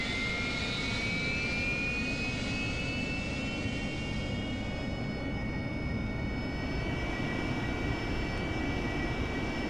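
Harrier jet engine spooling up toward 80% RPM in the DCS combat flight simulator, a constant loud roar with thin rising whine tones climbing and settling, steady throughout with no voices.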